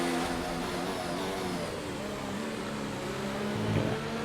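An F1 race car engine in the F1 2019 video game revs hard with a steady high-pitched harmonic drone, held at constant loudness throughout, close and alone.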